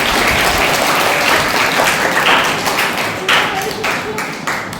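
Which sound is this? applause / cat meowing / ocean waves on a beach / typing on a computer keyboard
applause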